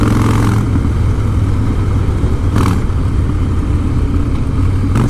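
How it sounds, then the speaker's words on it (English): A 2016 Harley-Davidson Breakout with a Stage 1 exhaust rumbles loud and close with a deep, continuous engine note and wind rush, briefly revving. "just the sound on this bike is so impressive. That stage one exhaust has just got such a good note to it."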